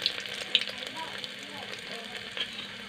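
Garlic crackles in hot mustard oil inside a cooker, a soft, even sizzle dotted with a few bright metallic clinks.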